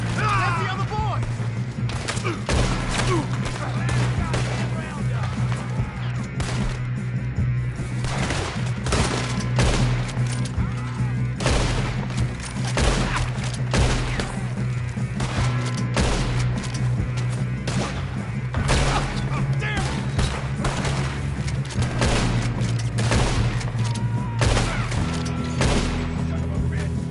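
PS4 video game gunfire rattles almost nonstop in dense bursts of automatic shots and heavy thuds, loud and close throughout, with players talking excitedly over the shooting.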